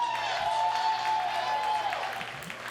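An audience applauds steadily at a police-community relations awards ceremony, a continuous wash of clapping with a sustained tone underneath, fading slightly toward the end.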